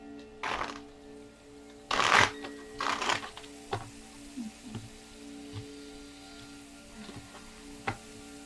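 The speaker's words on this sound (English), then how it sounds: "One more shuffle and a cut." Tarot cards being shuffled by hand at close range, a few loud riffling bursts early on followed by softer scattered taps and flicks.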